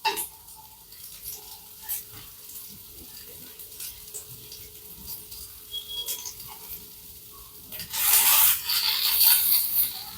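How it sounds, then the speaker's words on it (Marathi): Colocasia (arbi) fritters are turned over in a frying pan, with soft intermittent scraping and rubbing against the pan, then a louder burst of sizzle and scrape near the end. "एका बाजूने थोड्याशा शेकून झाल्या की आपण अलगद अशा त्याला उलट्या करून घेऊया."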